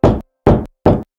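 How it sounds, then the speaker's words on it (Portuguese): Knocking on a door in an animated Christmas tale: three firm, evenly spaced knocks, close and loud, with silence between them. "De repente, alguém bateu na porta."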